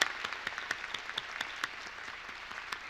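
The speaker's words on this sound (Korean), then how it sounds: "하나님께 영광의 박수를 드리겠습니다" Congregation applause in a church during an early-morning special prayer service, steady dense clapping with sharp individual claps standing out, moderately loud and continuous throughout.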